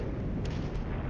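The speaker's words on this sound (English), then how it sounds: "they are responding with artillery fire" Artillery fire in the war strategy game Flashpoint Campaigns: Southern Storm rumbles as a low, heavy barrage, with two short, sharp bursts punching through a continuous booming roar.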